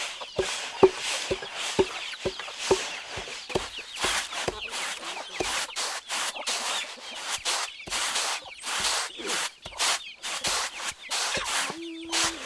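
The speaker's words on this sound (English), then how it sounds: "we can hear the sound of the rice we crush, peel, and sift" Rice being crushed, peeled and sifted after the harvest in Lake Sebu: rapid rhythmic pounding thuds at first, then a continuous run of rubbing, scraping, shaking strokes, close and moderately loud.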